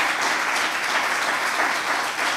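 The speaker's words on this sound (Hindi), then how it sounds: "जोरदार तालियां खुदा के जलाल के लिए" Church congregation breaks into loud, steady applause during a Hindi worship service, dense continuous clapping with no voices over it.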